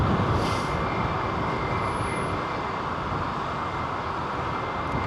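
Airliner taking off at London Heathrow, a loud sustained broadband roar holding steady throughout with a faint high whine.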